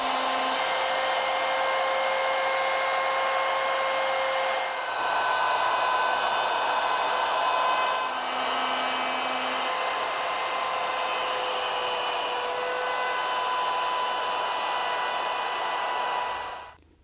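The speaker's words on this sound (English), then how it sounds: "my trim router that I did for that last operation where we rabbeted the edges" A trim router cutting rabbets along the edges of a wooden CD/DVD storage cabinet part, a steady high-pitched whine with strong harmonic tones running loud and continuous before cutting off at the end.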